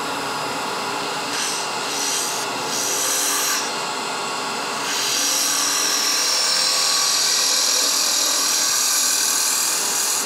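Power tool hollowing out a metal sphere for piercing, a steady close grinding and rasping that swells louder in the second half, with a few brief dips early on and no speech.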